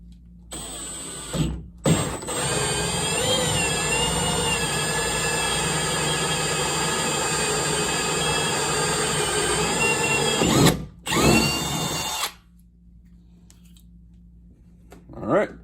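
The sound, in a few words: drilling PVC with a 1 3/8 inch hole saw bit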